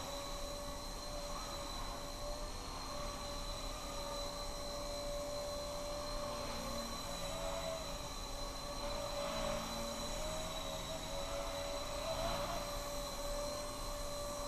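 A small Blade Nano CP S RC helicopter flying indoors, giving a steady high-pitched rotor whine and buzz that holds evenly throughout, close and continuous, with no talking.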